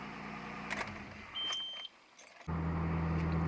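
A Nissan Maxima pulls out and drives up a street, a steady engine hum with a few brief clicks and a short quieter gap before the motor settles into a constant loud drone.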